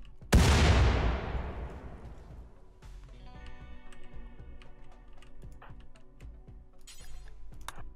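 A sandstone wall is blown up in RimWorld: one sharp, loud blast that rings out and slowly fades, followed by scattered small clicks and taps.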